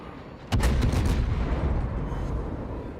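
A cruiser's gun salvo fires in a naval warfare video game: quiet background, then a sudden loud multi-gun blast with quick follow-up booms, trailing into a long rumbling decay.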